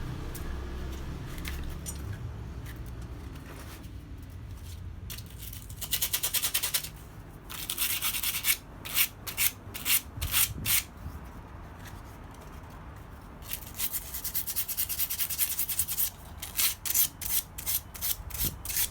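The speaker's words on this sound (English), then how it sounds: "I've got various grits here to hand sand the bowl." Hand sanding the bowl of a forged stainless steel spoon with abrasive paper, rapid rasping strokes in bursts, close and fairly quiet, with pauses between sets.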